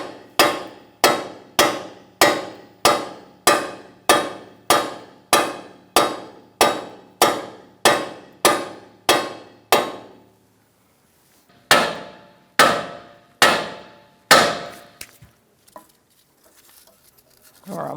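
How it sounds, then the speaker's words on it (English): Sharp metallic hammer strikes on a pry bar, about fifteen in a steady rapid rhythm, then a pause and a few slower, heavier blows, close and loud, while removing a front strut on a 2012-2018 Ford Focus. "If you get no movement, you're going to use a hammer as well."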